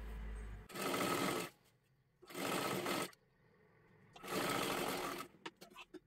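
A sewing machine stitches fabric in three steady bursts of rapid needle clatter, each lasting close to a second, separated by short pauses with quiet handling noises.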